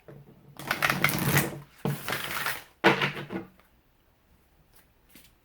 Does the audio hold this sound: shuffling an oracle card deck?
yes